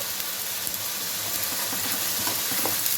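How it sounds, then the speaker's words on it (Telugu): Masala frying in hot oil for a mutton gravy curry gives a dense, continuous close sizzle with faint stirring scrapes, alone and without talk. "అది ఆయిల్లో మసాలా వేసుకున్నాను. ఇది ఫ్రై చేసుకోవాలి, బాగా పచ్చి వాసన పోయే వరకు ఫ్రై చేసుకోవాలి."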